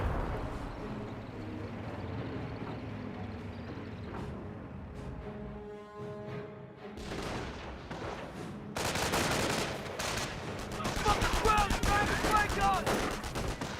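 Calliope rocket counter-barrage in Company of Heroes, a burst of rapid launches and explosions that thickens toward the end, mixed with other battle noise and a commentator's voice.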